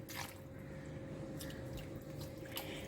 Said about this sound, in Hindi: अब इसके बाद हम डालेंगे थोड़ा सा पानी इसमें